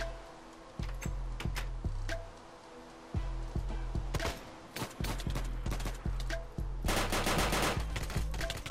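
Gunfire in the Minecraft mod Crafting Dead comes as repeated sharp shots, first singly and spaced out, then in a dense rapid burst near the end, set against a low in-game background.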